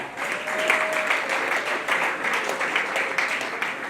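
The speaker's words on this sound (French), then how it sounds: "On applaudit pour les parents." Wedding guests at a religious ceremony applaud the parents of the couple, a steady mid-level wash of many hands clapping throughout with no break.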